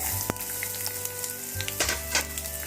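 Curry leaves for pachadi fry in a pan, giving a steady close sizzle with a low hum underneath and a few brief clinks and scrapes near the end. No one speaks.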